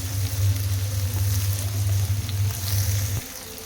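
Pieces of ridge gourd (beerakaya) frying in a pan for a gravy curry, a steady close sizzle under a low continuous hum that drops away near the end, with no talking.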